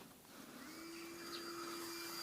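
Submersible water pump wired directly to a 100 W portable solar panel with no battery, giving a steady faint electric buzz with a constant hum throughout and no talk.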